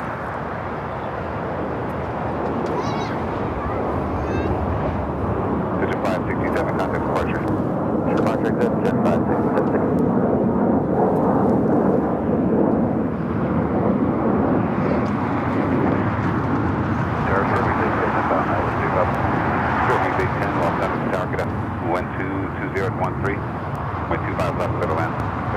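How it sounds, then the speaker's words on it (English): An EVA Air Cargo plane departing Los Angeles LAX for Taipei sends up a sustained, loud engine roar that builds and holds throughout, with a voice talking over it. "Eva Air Cargo Flight 621 heading back to Taipei."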